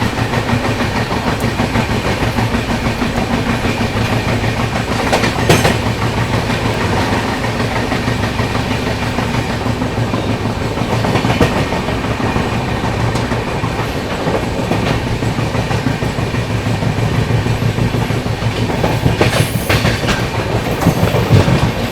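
Ride aboard the 22412 Arunachal AC Superfast Express running fast near Ghaziabad, a loud steady rumble with rhythmic clickety-clack of wheels over rail joints and occasional louder rattles, continuous with no voices.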